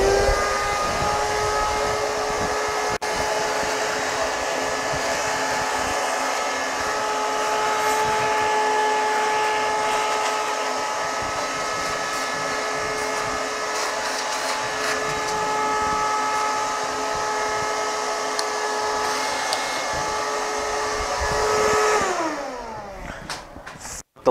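A wood lathe runs steadily in a workshop, a constant motor whine with tonal hum, left on by mistake instead of the shop vac, then spins down near the end; no talk.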